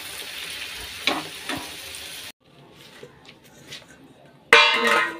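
Luchi deep-frying in hot oil in a home kitchen pan, a steady sizzle that drops away midway, then returns loud and bright at the end.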